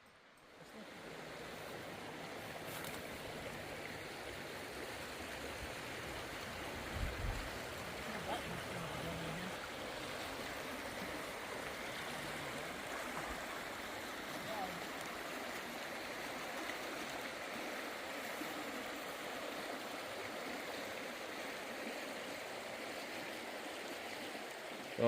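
The Cispus River runs beside a campsite near Packwood in the Gifford Pinchot forest, a steady broadband rush of flowing water that holds an even level throughout, with a brief low thump partway through.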